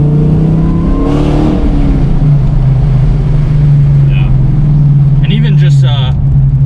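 A supercharged Dodge Challenger R/T with over 500 wheel horsepower drones with a loud, steady low engine hum while cruising, under someone talking for much of the stretch.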